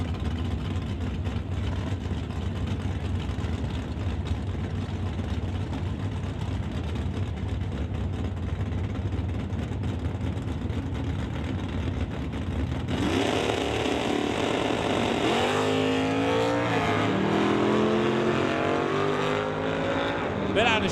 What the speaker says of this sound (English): Rick McKinney going to be taking up his 1996 Chevy Camaro next.